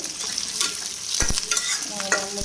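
Meat fries in a pan while garlic goes in, with a soft, continuous sizzle broken by a few sharp clatters and scrapes of stirring.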